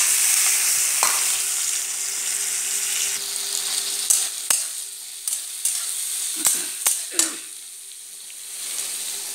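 Chopped onions fry in hot oil with spices for a brinjal pulusu, a continuous close sizzle broken by a run of sharp scraping stirs and clicks of a ladle against the pan.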